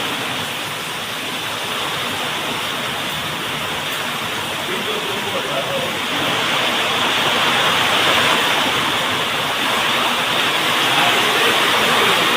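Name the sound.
windstorm with heavy wind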